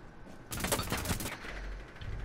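A rapid burst of gunfire rattles out in Tom Clancy's Rainbow Six, many shots fired in quick succession and close up. A low rumble follows, and there is no talking.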